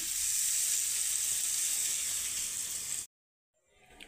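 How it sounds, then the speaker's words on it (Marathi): Hot oil tempering poured over raw mango pieces and spice mix for a quick pickle gives a loud, steady sizzle for about three seconds, then cuts off abruptly into near silence before faint rustling returns. "आता ही फोडणी आपल्याला कैरीच्या फोडींवरती आणि जो मसाला घातला आहे त्याच्यावरती टाकून घ्यायचा आहे"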